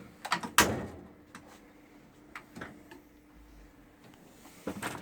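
Metal drawer of a Harbor Freight 56-inch toolbox sliding open with a sharp clatter and rattle of tools, followed by fainter clicks and a second clunk near the end.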